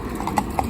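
A Friesian mare trotting, her hooves clip-clopping in a few quick, distinct beats close by, with faint background noise and no voices.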